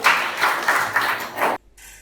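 A short burst of applause from a class of students, fairly close and dense, lasting about a second and a half before stopping abruptly.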